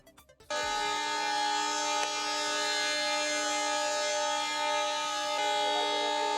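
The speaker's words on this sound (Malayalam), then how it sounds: "അപകട സൈറൻ മുഴങ്ങിയതിന് പിന്നാലെ" After a brief patter, a loud emergency siren starts abruptly during a railway mock drill near Kollam railway station's second gate, holding a steady, sustained wail with layered tones, continuing unbroken to the end.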